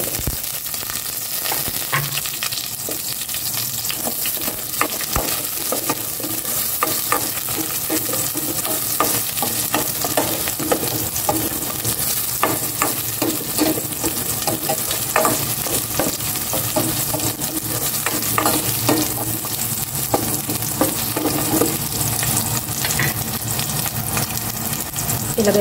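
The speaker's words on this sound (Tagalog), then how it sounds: "Gisa ko na itong bawang." Garlic and onion sauté in a hot pan, with a steady close sizzle and frequent clinks and scrapes of a utensil stirring throughout, no speech.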